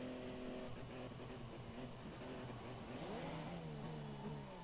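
Force India Formula 1 car engine in the F1 2017 racing game, revving continuously with rising and falling pitch sweeps as the car is spun around, loud and steady throughout.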